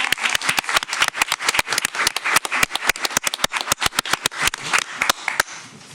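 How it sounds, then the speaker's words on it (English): An audience at an elementary school district board meeting applauds spelling bee winners, with a brisk, even patter of claps lasting about five seconds before it stops abruptly. "can we give them a round of applause as well?"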